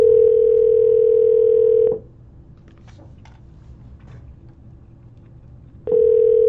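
An outgoing phone call goes unanswered: a steady ringback tone sounds for about two seconds, then a quiet gap with faint clicks, then the tone returns, loud and close.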